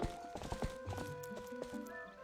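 A horse trots with steady clip-clop hoofbeats in the video game The Legend of Zelda: Twilight Princess, with a faint whinny. Tonal game music plays underneath, and the whole mix is quiet.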